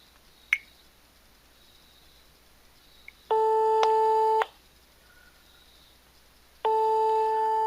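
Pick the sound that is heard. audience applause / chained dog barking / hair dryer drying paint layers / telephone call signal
telephone call signal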